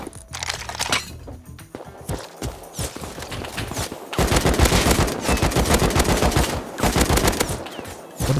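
Gunfire in the survival game Rust, rapid automatic bursts from several weapons, loud and close, in repeated volleys with brief pauses between them.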